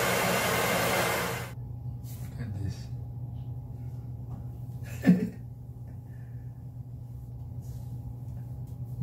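A hair dryer blows hot air on hair at close range for about a second and a half, then cuts off, leaving a low background hum and a brief knock.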